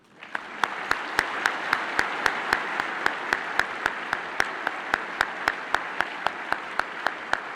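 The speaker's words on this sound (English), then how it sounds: "the audience starts clapping, a lot of times you'll clap along with it" Steady applause from a large audience at a Jehovah's Witness talk, with loud rhythmic unison clapping over a continuous wash of hand claps for several seconds.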